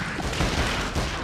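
Gunfire bursts out in the King Kong video game, a short dense volley of loud shots that runs the whole moment without speech.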